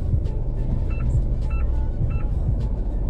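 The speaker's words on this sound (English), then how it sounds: "The exit of this parking is quite narrow that it triggers the front parking sensor." A 2021 Isuzu D-Max 3.0L X-Terrain's front parking sensor chirps as the pickup edges through a narrow car park exit near a wall, three evenly spaced short beeps over a low engine rumble.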